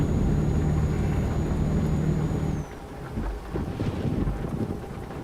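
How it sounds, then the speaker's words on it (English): Euro Truck Simulator 2 rainstorm: a steady wash of rain and a deep rolling thunder rumble drowning a truck engine hum, loud and continuous, easing partway through. "This is SES's own version of the rain and lightning."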